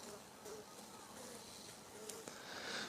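A faint, steady buzz of many honeybees humming together inside a wintering hive, low and continuous, with a few soft knocks.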